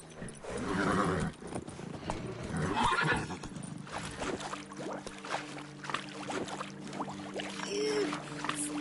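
In The Witcher 3 video game, the horse Roach trots with clip-clopping hoofbeats and gives a short whinny, heard fairly close over faint outdoor ambience, with a few quiet voices.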